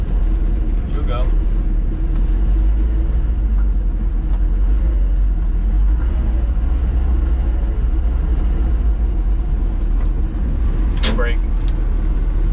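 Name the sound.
55-year-old farm truck engine running and driving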